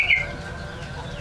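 A perkutut (zebra dove) kept by a collector gives a brief, clear call near the start, then faint background noise follows.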